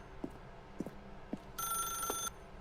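A telephone rings once in The Stanley Parable, a steady electronic bell tone of about three-quarters of a second, clear over a quiet room with scattered soft thumps.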